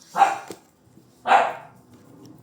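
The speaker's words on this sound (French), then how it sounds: "Si les chiens pouvaient se taire, ça serait magnifique." Dogs bark twice, two loud separate barks about a second apart, fairly close, with no talk.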